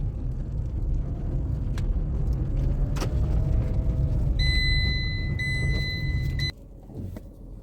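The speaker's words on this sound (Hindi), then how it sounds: "ख़राब रास्तों में आप गाड़ी की रैटलिंग आप सुनना" A Tata Tiago hatchback drives over bad roads, a continuous low road rumble with scattered knocks and rattles and a high electronic beeping chime near the end before the noise drops away.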